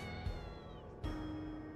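In the game The Cardinal Park Case, a cat blocking a snowy alleyway gives two drawn-out meows, quiet and somewhat distant over a low, hushed backdrop.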